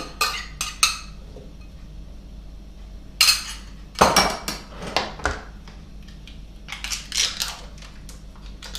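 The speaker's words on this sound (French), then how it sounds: "Ajouter mes oignons et mon ail." Chopped onions and garlic tipped into a cooking pot for a red kuri squash velouté, with several scattered clinks and clatters against the pot and short pauses between them, heard alone.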